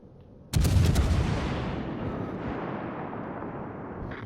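A heavy naval gun barrage fired from the heavy cruiser Hipper in World of Warships, a sudden booming salvo after a quiet moment that then rumbles and decays slowly over several seconds, loud and alone.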